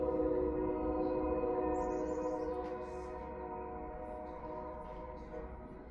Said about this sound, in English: That's the train rolling down the bridge and just filling the backyard there.